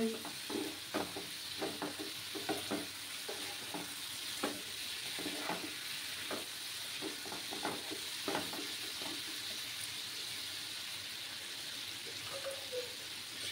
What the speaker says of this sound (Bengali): তারপর মশলাটাকে ভালোভাবে পেঁপের সাথে কষিয়ে নেব।